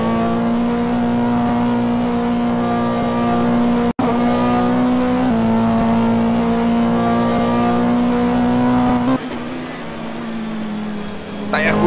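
A GT race car at Watkins Glen holds a loud, steady engine drone under hard acceleration, climbing slightly, then shifting and easing near the end while a commentator talks over it.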